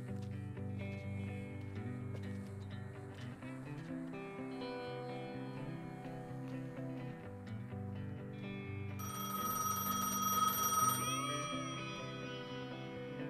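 A telephone rings inside a video game, a soft electronic ring with repeated tones over quiet game music, turning brighter and louder for a couple of seconds near the end.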